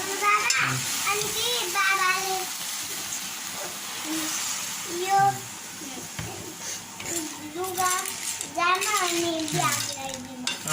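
Snail curry cooking in a pot at home, with spoon stirring, scraping and clinking against the pan over a low sizzle, close by, while people talk throughout.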